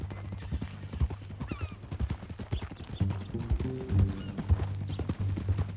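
Hooves clip-clop steadily on hard ground in the video game Red Dead Redemption 2, joined partway through by a second set of hooves and low voices talking in the background.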